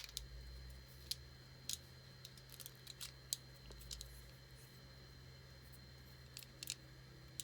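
Scissors trim stray strings off a 3D print, producing a scattering of faint, sharp snips at irregular intervals over a quiet background hum.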